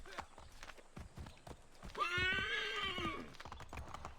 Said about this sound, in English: This horse keeps yelling at me.